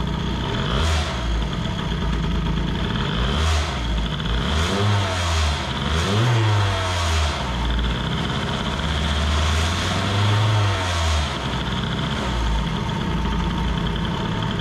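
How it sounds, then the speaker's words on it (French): An Airsal-kitted T6 65 car engine revs up repeatedly from a stable idle, rising and falling in several loud, close bursts, waking up around 4000 rpm, with a steady mechanical hum between them and no talking. "Là on peut voir que le moteur se réveille à peu près à 4000 tours."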